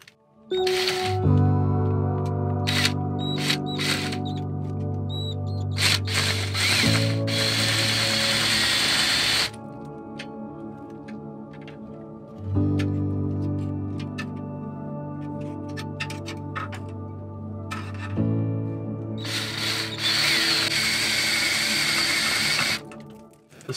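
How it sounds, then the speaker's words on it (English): A power drill whines at high speed in several long bursts, pitch shifting as it drives a self-tapping screw into thick metal of a Reese gooseneck hitch box, with clicks and clatter between runs. "So I'm gonna use my drill and a self-tapping screw"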